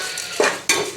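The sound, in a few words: mixing chili powder and spices in a pot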